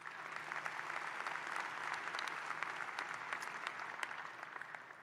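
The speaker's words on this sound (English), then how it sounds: "that deserves applause" Steady, sustained applause from a large audience at a university commencement ceremony at LSU Shreveport, heard from a distance and fairly faint, an even wash of clapping that holds for the whole stretch.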